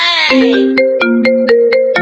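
A mobile phone rings with a bright, repeating electronic melody. Its regular, evenly spaced tones are loud and close, and no one talks over it.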